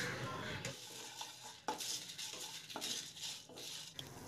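Dry red chillies, coriander seeds and black pepper are stirred and scraped around a hot dry pan for Chettinad mutton kuzhambu, with repeated spoon scrapes in bursts and a faint light crackle underneath, close and moderately loud.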